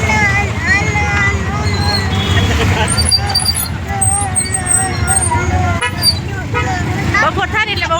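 Busy market-street traffic in Radhanpur: buses and cars rumble past while vehicle horns toot repeatedly, under a constant babble of nearby voices.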